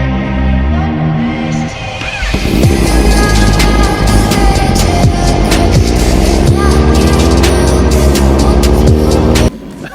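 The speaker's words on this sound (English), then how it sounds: "Sports bikes." A sport bike engine roars loud and close, revving hard with rising and falling pitch sweeps for several seconds before cutting off abruptly near the end.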